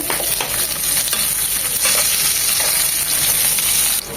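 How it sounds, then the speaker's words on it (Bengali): Chopped garlic and onion fry loudly in a pan, a close, steady sizzle with occasional stirring scrapes, easing off slightly at the very end. "রসুন কুচিটা এক মিনিট হওয়ার পর দিয়ে দিব দু চামচ পেঁয়াজ কুচি"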